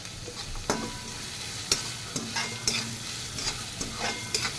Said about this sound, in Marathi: कांदा चांगला परतून घ्या.